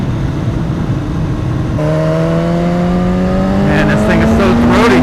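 A 2016 BMW S1000RR sport motorcycle engine revs up steadily from riding speed, its throaty drone climbing in pitch over several seconds, close and loud with wind noise throughout.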